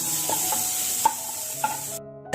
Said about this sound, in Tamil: ஸோ வெங்காயம் போட்டுட்டு கொஞ்சம் நேரம் ரோஸ்ட் ஆகட்டும்.